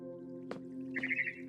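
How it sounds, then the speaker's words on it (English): A barn swallow chirps in the video game What Remains of Edith Finch: a few short, bright twittering calls near the end over a steady low ambient hum, with a brief click or drip sound just before. "Then I heard chirping outside my window."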